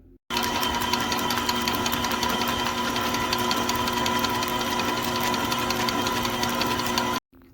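Electric mixer creaming butter with egg yolks, one yolk at a time, a steady loud motor whir with rhythmic rattling that starts abruptly and stops after about seven seconds.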